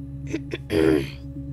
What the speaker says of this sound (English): Sorry for me clearing my throat all the time